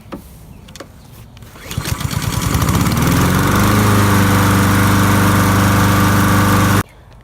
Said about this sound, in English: lawnmower tested good, started right up